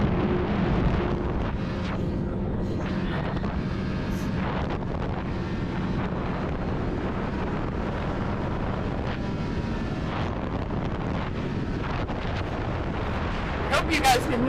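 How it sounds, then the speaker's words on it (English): Strong wind buffets the microphone at an ice racing track, a steady low roaring rumble with brief gusty bursts and no clear talk. "It's pretty windy out here"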